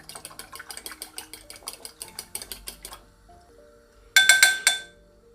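Two eggs with salt whisked briskly in a bowl, a quick regular clatter of utensil against the bowl for about three seconds, followed by a short louder clinking burst.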